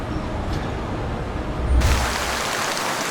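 Steady, dense hiss of a torrential downpour, with a brief swell partway through and a slightly brighter wash toward the end.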